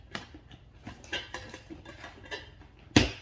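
Lid placed on a Tupperware microwave rice cooker, several light plastic clicks and taps ending in one sharp snap as it seats, close and alone.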